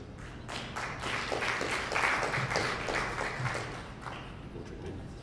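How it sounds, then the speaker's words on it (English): Audience applause at The Penn Debate, a steady wash of many hands clapping that holds at moderate loudness for about five seconds without any talking. "If you would like to applaud."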